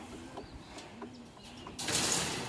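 Racing pigeons in a breeding loft give soft, low cooing calls in short repeated phrases, close by, with faint chirps and a brief burst of wing flapping near the end.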